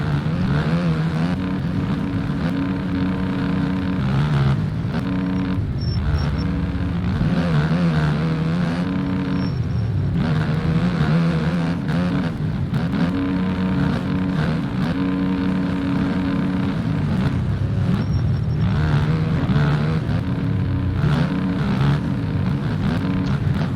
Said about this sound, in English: Let's go on board with Rubes as he sits in 5th and is very quickly trying to push his way into 3rd